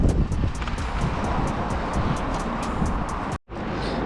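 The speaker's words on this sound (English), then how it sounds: "It's windy." Strong wind buffets the microphone in a constant rough roar outside an abandoned building, briefly cutting out near the end before resuming.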